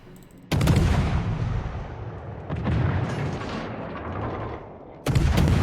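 Heavy tank cannon fire and shell impacts from World of Tanks, with a loud booming blast opening, another burst mid-way that rumbles on, and a fresh sharp boom at the end.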